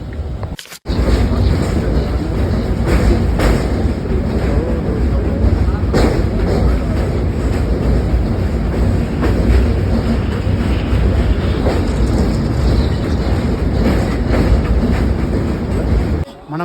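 A passenger train on the Kacheguda to Ayodhya route runs with a loud, continuous rumble and rattle heard from inside, with wind buffeting throughout and voices mixed in.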